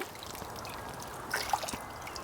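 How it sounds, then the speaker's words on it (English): Water trickles and dribbles steadily as it drains from a cooled whole chicken held over a cutting board, with a few louder splashes near the middle. "drain him completely, get all the water out."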